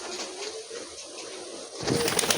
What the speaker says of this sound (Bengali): এই দেখুন পায়রা, চলো খাবার দেওয়া যাক।